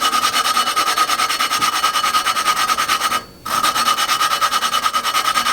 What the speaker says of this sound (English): If I just sit here and spin it, you can listen to the difference in the grinding compound.